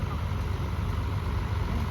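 A 1973 International 1060 tractor engine running in a parade, a steady low rumbling drone with constant loudness, heard at moderate distance over outdoor background.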